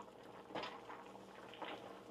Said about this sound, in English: Boiling.